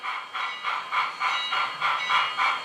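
A model locomotive's TCS sound decoder puffs steady rhythmic steam chuffs with hiss, repeating about every half second over a low mechanical rumble.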